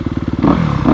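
A 2020 Honda CRF250RX dirt bike engine turning over and catching, a rapid rhythmic chugging that bursts into a loud, steady idle close by.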